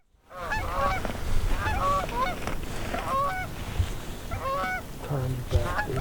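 Geese honking repeatedly at moderate distance during a goose hunt in a blizzard, irregular calls layered over steady wind noise and low rumble.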